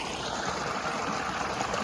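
Water from two motor pumps pours steadily into a rain-soaked wheat field, a close, continuous rushing flow with no voices.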